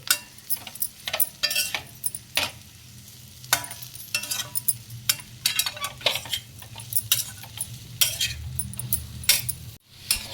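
Jackfruit pieces frying in oil in a pan, with intermittent bursts of sizzle and the clink and scrape of a spoon stirring against metal, close and irregular, no voices.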